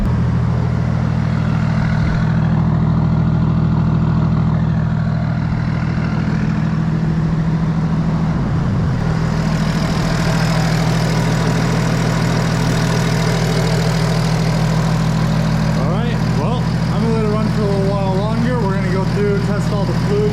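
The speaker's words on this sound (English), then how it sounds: "I'm just gonna let it sit in idle" A BMW E36 engine idles with a steady low rumble throughout, close and loud, while a person talks over it in the later part.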